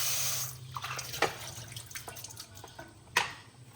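Tap water splashes and rinses a Breville Barista Pro coffee machine's drip tray in a kitchen sink, with close, uneven trickling and a few sharper spatters and knocks over a soft steady background.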